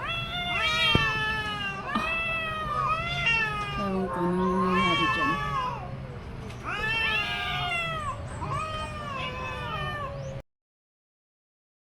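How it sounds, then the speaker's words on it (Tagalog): Two cats meow repeatedly in long, wavering cries, close by, with a person speaking briefly in between. "may dalawang pusa dito sa amin"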